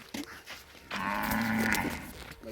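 A cow moos on a family farm, one long, fairly loud low call that swells and holds for about a second, preceded by softer background sounds.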